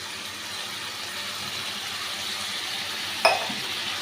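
Beaten yogurt is stirred into masala frying in oil in a pan, giving a steady close sizzle with a single bright clink of a spoon against the metal pan near the end.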